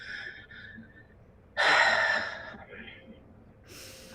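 During a guided breathing exercise, a single strong, airy exhale lasts about a second, close and clear, with faint breaths before it and the start of another rush of air at the end.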